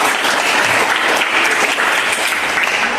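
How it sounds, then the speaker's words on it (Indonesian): A classroom audience of teachers applauds a presenting group, a steady dense wash of many hands clapping close by, even in loudness throughout with no talk over it. "silakan berikan tepuk tangan untuk kelompok saya"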